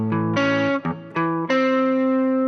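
A distorted electric guitar rings out sixth intervals, a few sustained two-note shapes struck one after another with brief gaps, loud and close with a touch of effects.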